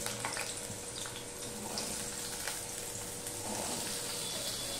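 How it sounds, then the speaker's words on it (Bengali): Cut potato pieces fry in hot oil with a steady, even hiss and crackle that holds for several seconds. It sounds fairly faint and close, with no other sounds on top. "এবার সবার প্রথমে আমি আলুটা ভেজে নেব।"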